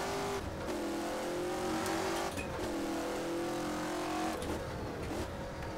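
A racing car engine in the rFactor sim drives hard at full throttle, rising in pitch through repeated gear changes with brief dips between, loud and close with a steady rasping tone and no talking.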